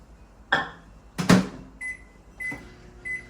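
Microwave oven heating a protein pancake: a door thump and slam, then a few short beeps from the keypad in a quiet kitchen, without talk.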